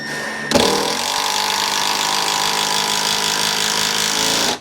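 A Makita impact driver drives a fastener into a wooden tool bench without a pilot hole. After a short start it holds one continuous, loud, close buzzing hammer for about four seconds, then stops abruptly.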